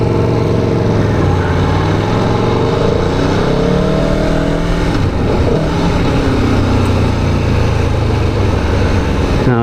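An Aprilia Tuono V4 Factory hyper-naked sportbike with an 1100 V4 engine rumbles close and loud, its engine note swelling and shifting as the clutch releases and the throttle opens, steady throughout with no talk.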